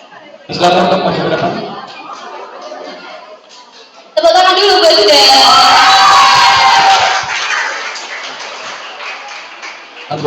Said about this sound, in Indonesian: Tepuk tangan dulu buat Huda.